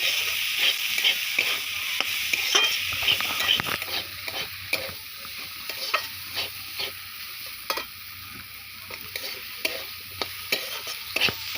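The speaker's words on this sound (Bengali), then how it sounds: "আবারও ভালোভাবে নাড়াচাড়া দেবো" Steady frying sizzle with repeated scraping stirs of a spatula through spring roll filling with chopped coriander in a pan, close and fairly loud, no talking.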